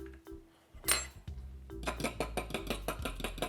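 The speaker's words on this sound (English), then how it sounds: "With the buttermilk, I'm going to add 1 egg and beat it right in here in the mixing cup." Egg being beaten into buttermilk in a mixing cup for a brown sugar coffee cake, a quick, rapid series of close utensil clicks against the cup after a few scattered clinks and a brief clatter.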